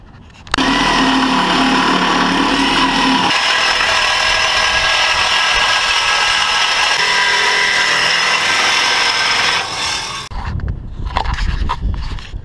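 A power tool cuts through a Jeep exhaust pipe, a loud sustained whining grind with a shift in pitch partway through, ending abruptly before a few clanks and rustles nearby.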